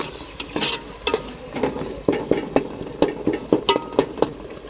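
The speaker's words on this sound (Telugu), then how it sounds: "మేమైతే టమాటాలు మంచిగా నూనెలే ఫ్రై చేస్తాం" Tomatoes frying in oil in a pan while being stirred, for a tamarind fish curry, with scattered soft sizzling and repeated scraping and clattering stir strokes close by, and no talking.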